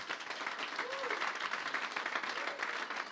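A church congregation applauds to acclaim the Lord during a worship service, a dense, steady wash of many hands clapping together at a moderate distance.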